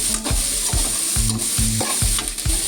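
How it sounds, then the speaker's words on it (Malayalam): Onions sautéing in a pan until golden, a close sizzle broken by regular, rhythmic scrapes of a spoon stirring about twice a second, with no voices. "അപ്പോൾ ഇത് സ്വർണ്ണ നിറമാവണ വരെ നമുക്കിതൊന്ന് ആക്കിയെടുക്കാം"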